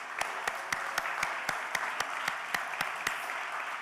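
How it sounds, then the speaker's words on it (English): A church congregation at an annual parish meeting claps in sharp, regular bursts roughly every quarter second, steady and moderately loud throughout, with no talking over it. "we will give you a round of applause and our gratitude"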